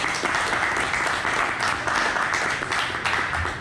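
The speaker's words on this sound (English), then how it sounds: "Round of applause." An audience at an evening backend developers' meetup gives a round of applause, steady dense clapping from a room full of people lasting several seconds at moderate loudness.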